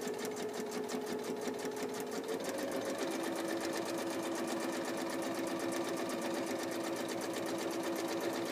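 A sewing machine stitches pinned fabric in a steady, rapid mechanical whir with a fine rhythmic needle chatter, running continuously and close up with no talking.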